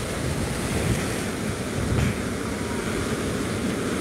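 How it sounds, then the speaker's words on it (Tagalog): Large ocean waves pounding the coast of Bicol during Typhoon Opong near a seawall, a constant loud roar of surf mixed with heavy wind buffeting the microphone. "Kaya malalaki po ang alon dito sa amin."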